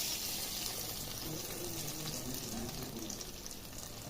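Fried tempering is poured into cooking lentil dal and hisses in a soft, continuous sizzle, faint and even with no voices over it.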